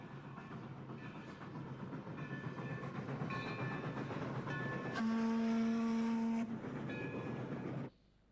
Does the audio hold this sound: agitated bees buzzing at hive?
no